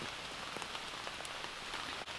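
A heavy downpour hisses steadily on the surrounding surfaces, dense and continuous with scattered close drop impacts, loud and enveloping, without voices.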